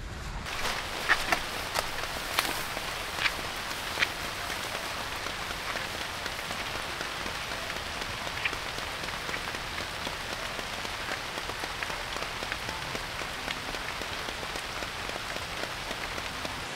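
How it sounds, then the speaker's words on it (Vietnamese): Heavy rain during a stormy day of pond fishing drums hard and steadily on nearby surfaces, a dense continuous hiss with scattered louder drops close to the listener. "Trời mưa to quá các bác ạ"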